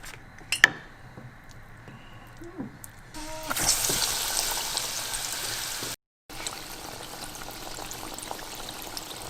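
A flour-coated, butter-dipped tuna and Philadelphia roll goes into hot oil after a few faint kitchen clicks and knocks, then a moderate steady frying sizzle follows, close by and with no talk.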